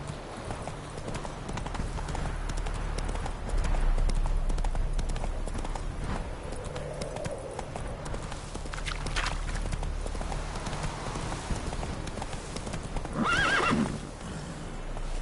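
Roach the horse in The Witcher 3, hooves clip-clopping in a steady gallop with a whinny near the end, over a low background hum, fairly close.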